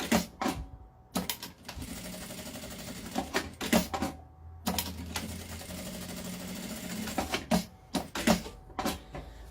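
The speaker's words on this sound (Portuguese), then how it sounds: "Vou passar a costura na beiradinha assim, ó, pode ser meio pé de máquina" A sewing machine runs a seam along the edge of a fabric piece, its rapid mechanical chatter coming in several bursts of a few seconds each, separated by brief pauses, loud and close with no voices.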